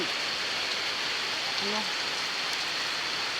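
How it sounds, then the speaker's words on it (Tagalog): Steady rain falls outside, a dense even hiss that stays moderately quiet and fills the whole stretch, with no voices. "Umuulan na siya guys. Sa labas."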